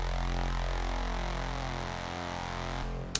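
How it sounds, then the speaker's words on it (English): A distorted, vocoded vocal synth drones steadily with gritty, buzzing harmonics and slowly sweeping vowel-like formants, loud and continuous, ending with a short click. "And with the distortion"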